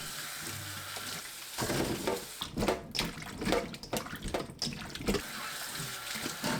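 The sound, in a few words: washing baby potatoes under water, rubbing them clean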